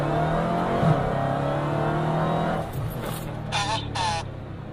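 A Dodge Challenger Hellcat accelerates hard at full throttle in sport mode, a loud rising engine roar that builds and then eases, with sharp high-pitched sounds near the end.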